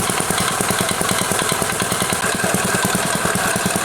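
A transparent two- and four-stroke combustion engine with fully variable valve actuation runs at very low power output, putting out a steady, fast rhythmic chugging and clatter that stays loud and close throughout.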